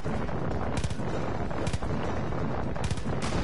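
Gunfire in Far Cry 5 co-op play, a steady stream of rapid shots with sharper bursts standing out, loud and continuous with a rumbling background.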